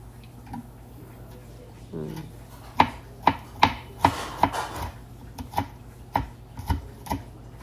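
A knife finely chops three crushed garlic cloves on a board, sharp close knocks falling in an irregular quick series, with a person talking faintly at the start.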